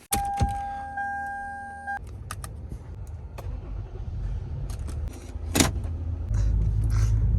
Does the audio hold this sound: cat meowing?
no